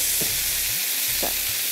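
Marinated chicken shashlik sizzles steadily in a pan as the pieces are turned, a continuous hiss with two soft scraping pushes against the metal.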